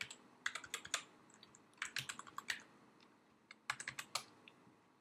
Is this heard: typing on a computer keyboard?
yes